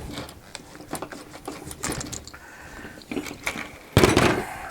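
Allen key loosening bolts on a boat's electric motor mount, giving a series of close, dry metallic clicks and ratcheting ticks in irregular bursts, ending with a louder clatter.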